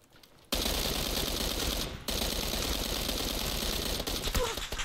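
Sustained, rapid automatic gunfire from the PUBG video game rattles loud and close, starting after a short quiet moment, with a brief gap before the dense shooting resumes.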